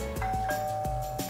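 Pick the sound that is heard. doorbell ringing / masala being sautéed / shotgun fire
doorbell ringing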